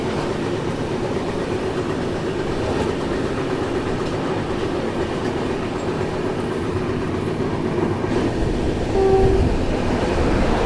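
Gatimaan Express 12049 passing on an Indian railway line, a steady loud rumble of wheels and carriages with rhythmic clatter throughout, no voices.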